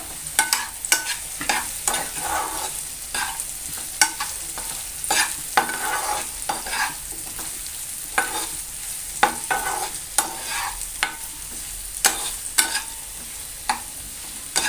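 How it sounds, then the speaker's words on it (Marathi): Red chili powder and turmeric stirred and fried in a pan, a continuous close sizzle broken by frequent scraping taps of the spoon against the metal at an uneven pace, with no talking. "त्यानंतर मी घालणार आहे लाल तिखट आणि थोडीशी हळद आता हे आपण ना छान असं मिक्स करून घ्यायचं"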